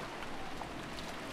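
Steady rain falls in the Umineko visual novel, a continuous soft hiss of rainfall on a garden with no breaks, even and fairly quiet throughout.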